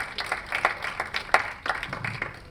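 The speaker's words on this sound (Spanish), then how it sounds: "Pues un aplauso" An audience claps at a book presentation and discussion event, a scattered round of applause with uneven, fairly close hand claps lasting a couple of seconds with no voices over it.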